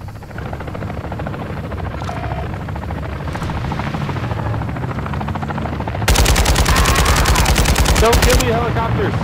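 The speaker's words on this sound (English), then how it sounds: "helicopters." A helicopter drones steadily in Call of Duty DMZ during a firefight at exfil. Around six seconds in, a loud burst of rapid machine-gun fire breaks over the rotor noise and lasts a couple of seconds, with faint talk beneath.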